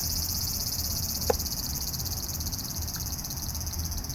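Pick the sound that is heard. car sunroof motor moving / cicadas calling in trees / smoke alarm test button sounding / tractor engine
cicadas calling in trees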